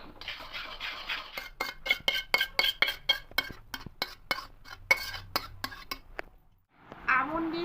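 A metal spoon stirs semolina payesh with ghee in a pot on a gas stove, giving quick, rhythmic clinks and scrapes against the pot for several seconds. The stirring pauses briefly, then a short rustling clatter follows.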